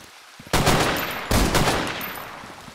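Gunfire from the video game ZERO Sievert: two loud, sharp shots about three-quarters of a second apart, each ringing out into a long reverberant tail, with no talking.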